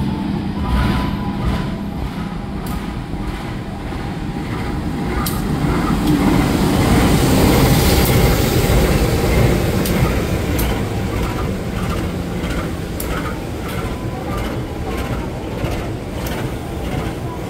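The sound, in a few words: Tawang Alun passenger train passing station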